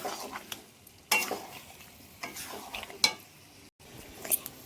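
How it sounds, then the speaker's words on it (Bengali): Jackfruit sizzles faintly in a pan while a utensil scrapes and stirs in irregular strokes, with occasional light clinks against the metal pan. "এই যে এঁচড়টা দিয়ে দিয়েছি, দিয়ে কষাবো"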